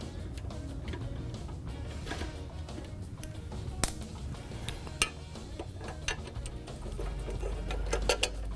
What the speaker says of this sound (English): We're going to go ahead and start with a 7mm socket, and we'll undo these bolts on this back panel.